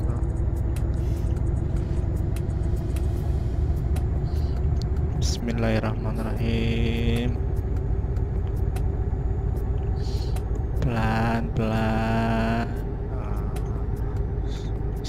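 A heavy truck engine drones steadily in Euro Truck Simulator 2 while driving through a rural area, a continuous loud low rumble throughout, with someone speaking over it at intervals.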